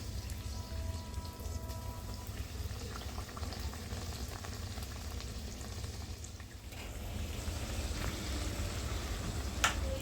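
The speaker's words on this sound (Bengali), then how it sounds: "এবার আমি এগুলোকে ভেজে নেব" Stuffed sattu kachori deep-frying in hot oil, a continuous bubbling sizzle with crackling pops, steady and close, one sharp pop near the end.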